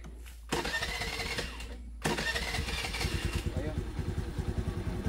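A motorcycle engine cranks with a short whirring starter burst, then catches on the second try and settles into a close, loud, fast-chugging idle while people talk over it.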